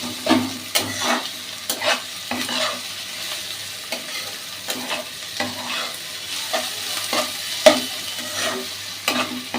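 Food frying and being stirred in a pan while chili-spiced ingredients brown, with a steady sizzle broken by repeated scraping stir strokes at an uneven rhythm, close and moderately loud, no voices.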